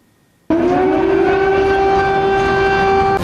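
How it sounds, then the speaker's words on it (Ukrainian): After a half second of quiet, a loud steady air raid siren wail in Ukraine begins abruptly and holds a sustained tone with harmonics to the end. "Не лякає вас сирена от зараз?"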